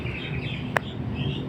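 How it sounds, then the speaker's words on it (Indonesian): Faint high bird chirps in a Roblox game over a low steady background hum, with one sharp click in the middle; no talking. "Ada suara burung kedengeran nggak?"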